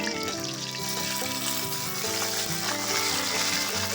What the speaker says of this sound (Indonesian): Lanjut kita tumis bawang merah dan bawang putihnya dulu